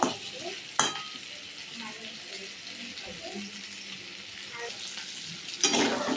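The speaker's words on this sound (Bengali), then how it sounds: "আলুটা আমার একটু ভাজা হয়ে গেছে।" Potatoes stir-fry in a pan with a soft, steady sizzle, broken by a few sharp scrapes of the spatula against the pan, close and alone without talk.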